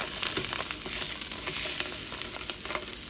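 Italian sausages sizzle loudly in a hot pan as they are turned, a constant crackling fry with scattered pops and spatters, no talking.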